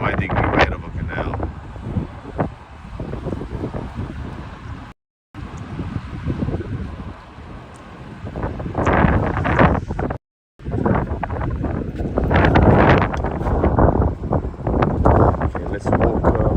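Strong wind beside a canal in St. Petersburg buffets the microphone in loud, gusty roaring bursts, with a couple of brief dropouts. Street noise sits underneath.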